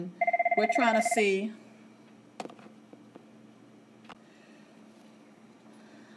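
A school telephone bell rings loudly in a rapid trill for about a second and a half, then stops, leaving faint room noise and a few brief clicks while a voice talks briefly.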